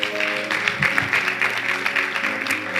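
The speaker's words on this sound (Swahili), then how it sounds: "Pe Bwana Yesu makofi kama unanielewa" A congregation applauding during a Friday night church worship service, a dense, sustained patter of clapping with a steady tonal hum beneath it.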